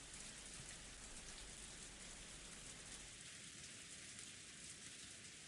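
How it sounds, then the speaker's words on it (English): Steady heavy rain pelting a window in the game Umineko When They Cry, a dense continuous hiss of raindrops that holds evenly throughout with no voices. "Kinzo noticed the sound of the raindrops beating on the window."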